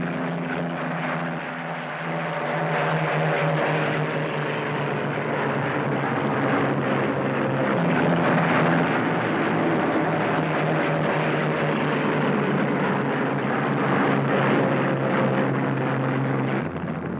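Several P-47 Thunderbolt WWII fighter planes taking off together, a loud, steady, continuous piston-propeller roar that holds at full strength throughout with no speech.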